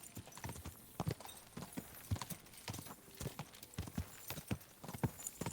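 Horse hooves clip-clop at a steady walking rhythm on a road in the medieval game Kingdom Come: Deliverance II, each strike crisp and close with no talk over it.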